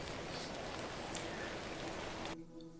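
Steady rain patters and hisses throughout in the video game The Excavation of Hob's Barrow, then drops away sharply near the end to a quieter background.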